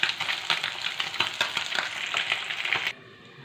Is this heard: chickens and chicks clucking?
no